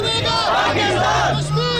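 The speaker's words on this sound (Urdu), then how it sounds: "پورے پاکستان نے قومی پرچم کے ساتھ کشمیر کا پرچم تھام کر وطن ہمارا آزاد کشمیر کے نعرے لگائے" Dense, loud crowd of rally-goers in Pakistan chanting pro-Kashmir slogans in unison while waving national and Kashmiri flags, a continuous roar of many voices with no pause.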